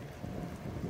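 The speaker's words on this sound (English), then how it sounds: "It started raining." Steady rain pours outdoors on an exposed stretch as a storm opens up, a dense continuous hiss of drops at moderate loudness with no voices.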